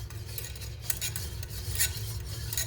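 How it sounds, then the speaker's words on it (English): Homemade yellow mustard mixture being whisked in a pot over low to medium heat, a steady scraping and stirring rattle of the whisk that runs continuously and close throughout with no talking. "You are going to whisk it until it's nice and smooth."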